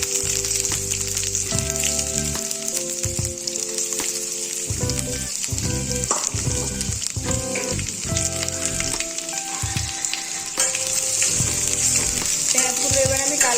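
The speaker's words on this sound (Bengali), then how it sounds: "পেঁয়াজগুলো এবার আমি লাল লাল করে ভেজে নিচ্ছি" Chopped onions fry in hot oil with whole garam masala and bay leaf for Bengali dim polau, a steady close sizzle with occasional stirring scrapes under sustained background music.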